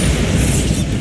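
Bombarda blast spell cast in Hogwarts Legacy: a single dense, rumbling explosion that fills the whole second, loud and close with a broad roaring wash and no talk over it.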